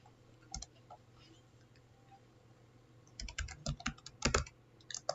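Commands are typed on a computer keyboard during a Windows Active Directory migration, a few scattered key clicks followed by a quick burst of rapid close taps, all quiet against a low hum.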